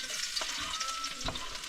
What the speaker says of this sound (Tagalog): Gisa tayo ng sibuyas mga katangay tsaka bawang.